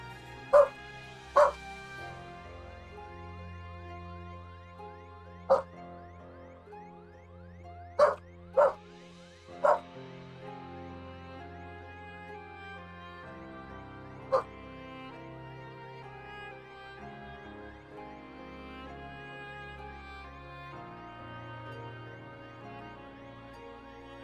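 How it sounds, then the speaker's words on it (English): Several short, sharp dog barks and yips in small bursts of two and three, spread over a background of steady game music and talk. "Incoming dog borks."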